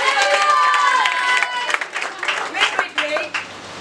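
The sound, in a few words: classroom applause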